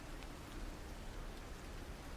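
Heavy rain pours steadily during a storm, a dense, even hiss of drops hitting surfaces without pause, close and loud with no voices.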